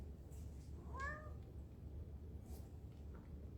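A house cat gives one faint, brief meow at a distance over a low steady hum, with a few soft knocks around it.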